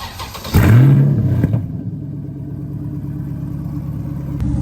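An LS V8-swapped Porsche 993 RWB car fires up with a loud rev burst, then settles into a steady, rumbling idle close by.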